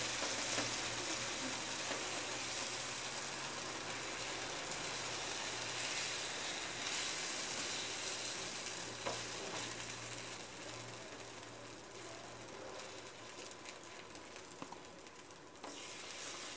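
Breakfast ingredients sizzle and fry in a pan, a steady bright crackling hiss that goes on throughout with occasional stirring clatter and no talking.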